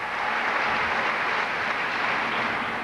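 A bowling crowd at the 1995 US Open claps and cheers in a dense, steady roar of applause that stays loud and unbroken throughout.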